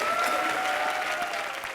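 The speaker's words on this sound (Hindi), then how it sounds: "जोरदार तालियां हनी सिंह के लिए।" A studio audience at a live comedy show gives loud, steady applause for Honey Singh, the dense clapping filling the brief moment with a faint crowd murmur beneath it.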